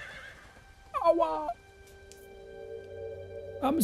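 A wounded horse in the video game Ghost of Tsushima lets out a short whinny, clear but moderately quiet over a low ambient background, followed by a faint rising sound near the end.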